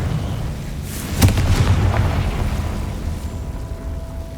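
The Confringo explosion spell in the video game Hogwarts Legacy goes off as a single sharp blast, followed by a rumbling low tail that slowly fades.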